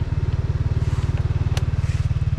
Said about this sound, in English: the engine braking locks the back end up as soon as you let go